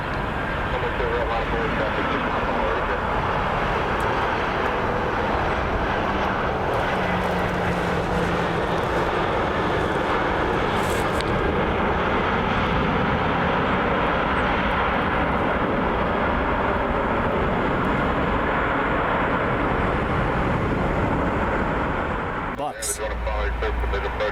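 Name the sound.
inbound airplane at Columbus airport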